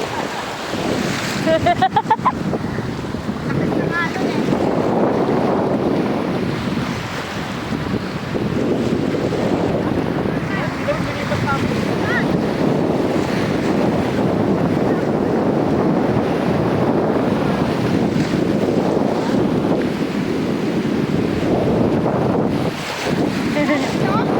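Wind buffets the microphone and ocean waves rush and slap against the hull during a small boat ride on a family birthday outing. The roar is loud and constant, with voices faintly underneath.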